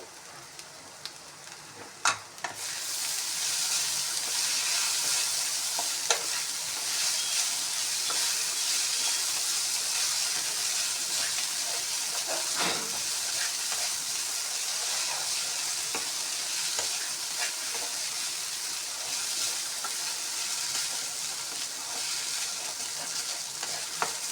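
Poha upma is stirred and mixed in a pan, a continuous close sizzle and dry scraping hiss that begins after a brief quiet moment and runs steadily throughout, with a few sharper clinks of the spoon and no talk.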